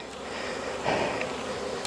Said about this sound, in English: then the bees come piling out and they're not happy